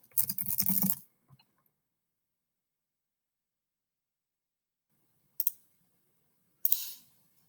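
Typing and clicking on a computer keyboard, a dense one-second burst of rapid key taps followed by long silence and two brief clicks later, close and fairly quiet, with no speech.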